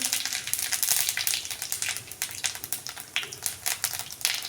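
Cumin seeds crackling and sizzling in hot oil for baingan bharta, a loud, close, continuous fry with a bit of stirring.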